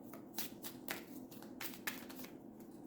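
Tarot cards are drawn and handled in a reading, giving soft papery slides and flicks repeated several times, close and quiet.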